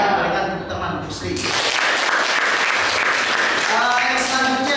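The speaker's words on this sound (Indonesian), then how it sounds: "Berikan tepuk tangan untuk Sri." An audience in a teacher-training performance exam classroom applauds a participant named Sri, a dense burst of clapping in the middle framed by talking before and after.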